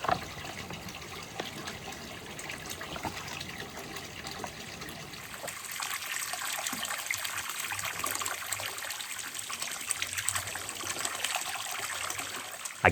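A river in the Azores flows steadily close by, a continuous rushing and trickling wash that grows slightly fuller partway through, with no voices.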